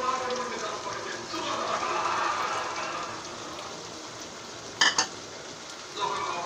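Vegetables for a Bangladeshi-style Chinese stir-fry being stirred in a pan, a continuous low sizzle with scraping spoon strokes and a couple of sharp metallic clanks near the end.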